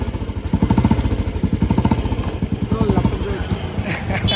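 A Royal Enfield Classic 350 motorcycle engine runs close by with a fast, even thumping beat, steady and loud. A voice speaks briefly over it near a tyre shop.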